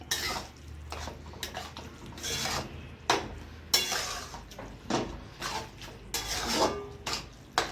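A spoon scrapes and stirs carrot halwa around a metal pot in repeated rasping strokes, roughly one every second, close and fairly loud.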